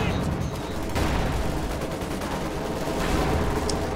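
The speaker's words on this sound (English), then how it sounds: "a bunch of assault grenadiers just walked right into that light artillery barrage" Light artillery barrage in a strategy war game, dense overlapping blasts and gunfire rumbling continuously at steady loudness, with battle noise filling the whole stretch.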